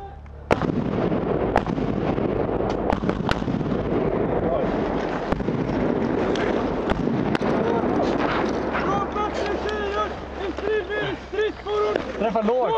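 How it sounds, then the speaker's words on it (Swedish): Rapid bursts of MG3 machine gun fire crack repeatedly, loud and close, during a Swedish Army live fire exercise, with shouting voices amid the shots and talk toward the end. "Skott kommer!"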